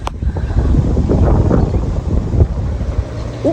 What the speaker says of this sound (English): It's so windy and it is quite cool out here.